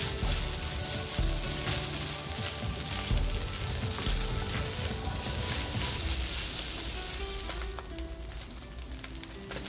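Fried rice with egg, cabbage and chilli tuna stir-fried in a hot pan, giving a loud continuous sizzle with scraping and tossing throughout, no voices.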